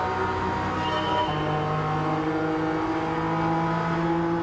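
A Suzuki Jimny engine racing in Gran Turismo 7, a steady buzzing drone that shifts pitch as the small engine revs and changes gear, loud and continuous throughout.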